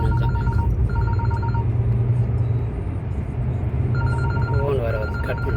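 A phone rings in repeated double-burst electronic trills over the steady rumble of a car driving along a coastal road under roadworks, with a brief voice near the end.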